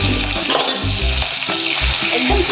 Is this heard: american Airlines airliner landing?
no